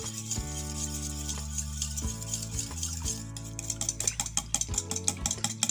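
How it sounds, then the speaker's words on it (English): Whisk stirring homemade sulfur hair cream, light rhythmic clicking and scraping strokes that grow quicker and sharper toward the end, over a steady hum in the background. "Go ahead and use this whisk because the sulfur is still there underneath."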